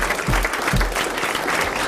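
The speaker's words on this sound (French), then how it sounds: "vous applaudissez Madame Lebert" Studio audience applause on a French television variety show, a steady mass of clapping filling the whole moment with a few louder low thumps near the start.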